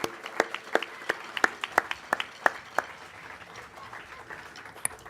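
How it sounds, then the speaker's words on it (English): Sparse applause at a university child care center ribbon cutting, a handful of separate claps spread over several seconds, fairly quiet and thinning out toward the end, with no talking over it. "please, a round of applause and a note of gratitude of thanks for us for your contribution"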